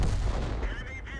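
A tank shell fires in a video game battle as one loud, heavy boom with a rolling low-end tail, followed by fading in-game ambience and a faint tonal warble.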